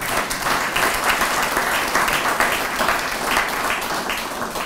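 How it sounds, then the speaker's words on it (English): Audience at a recovery-program spring awards banquet breaks into loud, sustained applause, a dense wash of clapping filling the room from start to finish. "You can clap."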